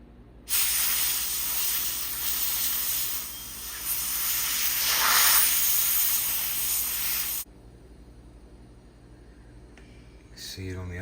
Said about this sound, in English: Then I'll take the air compressor and I'll lightly blow through this